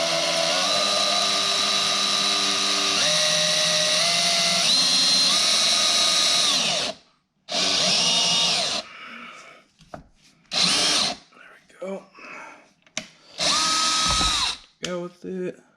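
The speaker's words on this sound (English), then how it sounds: "go ahead and drill your holes there" A power drill bores holes into a Ford Mustang diffuser in several bursts: a long whirring run with stepping pitch, then shorter spins separated by pauses, close and loud, with brief talk between.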